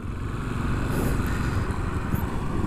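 Yamaha SR400 single-cylinder motorcycle on a ride, a steady close rumbling engine with low throbbing pulses and wind noise, no talk.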